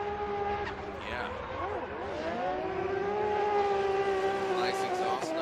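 A Ready Performance Toyota Racing Toyota GT86 drift car on Nexon tires holds a steady exhaust drone through a banked turn at a Formula Drift qualifying session, its engine note sustained and rising, with an announcer talking over it.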